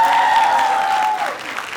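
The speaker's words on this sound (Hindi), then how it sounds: "तालियां हो जाए यार." A crowd at Panjab University in Chandigarh applauds steadily and densely, with a faint tonal hum running underneath, and the clapping thins slightly toward the end.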